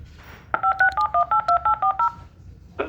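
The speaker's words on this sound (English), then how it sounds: "here's my phone. It dials that number." A touchscreen phone dials a programmed number, giving a quick run of about nine steady two-tone DTMF beeps at an even rhythm, close and clear, with brief faint noise before and after.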